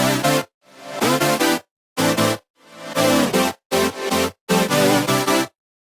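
Synth playing the main chord progression with pitch bending and vibrato, loud and close, in short sustained stabs separated by brief gaps, some notes wavering in pitch.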